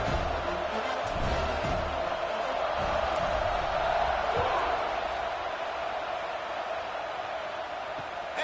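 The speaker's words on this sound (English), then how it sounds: "this crowd is buzzing after that last score" A crowd in a college football video game buzzes after a score, a steady distant roar with faint shouts, held at a constant low level throughout the stadium.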